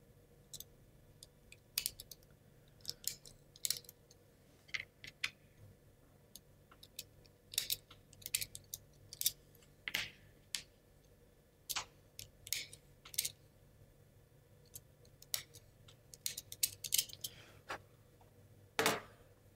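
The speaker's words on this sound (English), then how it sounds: "We can use a knife here to trim the burrs inside the gear." A knife trimming burrs inside a wooden Ugears gear from the Dice Keeper kit gives a string of faint, quick scraping clicks and ticks, irregular and close, with no talking.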